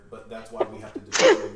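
A single sharp sneeze bursts out near the end of a tabletop role-playing game session, preceded by quiet speech.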